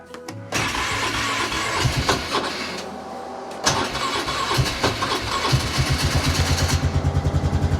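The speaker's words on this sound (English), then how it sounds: "now all we got to do is see if we can get that 4-wheeler started" A 4-wheeler ATV at a north woods camp in winter cranks and catches, revving unevenly up close before settling into a loud, steady idle with a rhythmic putter.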